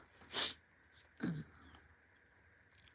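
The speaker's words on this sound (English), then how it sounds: "Sorry, trying not to sneeze." Two short, muffled bursts, a stifled sneeze held back, separated by a second of quiet breathing, fairly close and soft.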